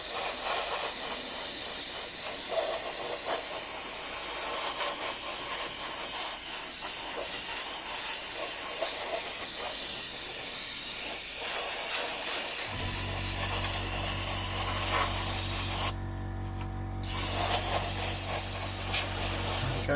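Continuous hissing spray from an airbrush painting an Italeri 1/48 Seahawk helicopter model, steady and close, with a brief pause near the end before the hiss resumes.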